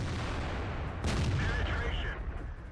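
A T-62a tank cannon fires in a video game, a single heavy boom near the middle that rings out over a steady low rumble of engine and battle noise.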